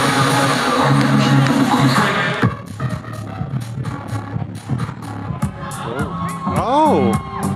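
Festival crowd at Wicked Woods Music Festival roaring and cheering close by at first, then breaking into scattered whoops and shouts with people talking nearby.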